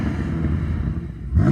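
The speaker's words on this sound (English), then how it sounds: "Go on, rev up the M5," A BMW M5 engine revs on a racetrack: a steady, loud mechanical drone that swells and climbs in pitch right at the end, heard close with no talking.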